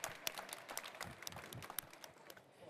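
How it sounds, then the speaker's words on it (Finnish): Light, scattered audience clapping at a cooking competition final, quiet and somewhat distant, with individual claps standing out in an uneven rhythm for a few seconds. "Annetaan aplodit Katriina Suomiselle."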